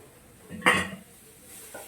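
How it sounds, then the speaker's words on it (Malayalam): Rice being mixed with masala in a pan: one brief scrape and clatter of a spoon against the pan, then quiet with a faint later clink. "എന്നിട്ട് ഇതിലേക്ക് ആവശ്യത്തിന് ചോറിട്ട് മിക്സ് ചെയ്യും."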